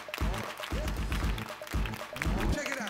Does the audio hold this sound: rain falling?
no